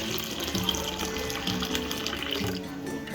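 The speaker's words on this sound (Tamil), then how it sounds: "அந்த அளவுக்கு தண்ணியே சேர்த்துக்கணும்" Water runs steadily into a pot for tomato rasam, a continuous close splashing pour with no talking.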